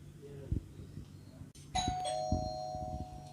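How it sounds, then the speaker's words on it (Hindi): A doorbell chimes twice, a short two-tone ring, with low room noise and faint background voices around it. "घंटी बज गई, यानी कुरियर बॉय आ चुका है जी।"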